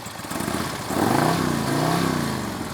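A Harley-Davidson SE120R engine in an Ultra Limited touring motorcycle on the move: a close, continuous rumble whose pitch climbs and dips as the throttle opens around the middle, steady and unbroken, without any speech.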